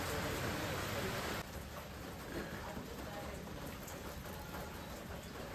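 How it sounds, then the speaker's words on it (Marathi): Heavy rain out in the countryside, a dense even hiss of drops pouring down, somewhat distant and steady throughout with no talk. "बघा पाऊस किती जोरात आलाय"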